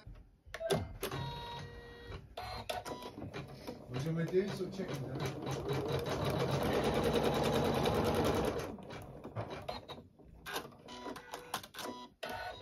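An embroidery machine stitches an applique placement line, running steadily with a rapid rhythmic mechanical chatter that builds to a loud continuous stretch and then breaks into shorter bursts, with brief pauses between.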